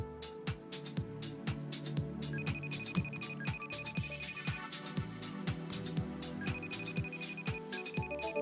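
An outgoing phone call rings, repeating its tone in a regular pattern over a steady electronic hum, with no talking.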